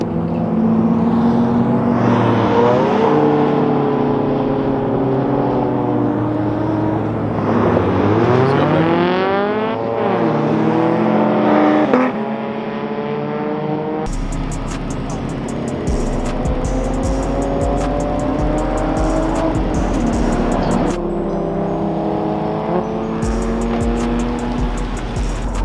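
Race cars and a Honda S2000 run laps at Chuckwalla Raceway during a track day, engines rising and falling through gear changes with tire squeal and cars passing close by, loud and continuous with no talk.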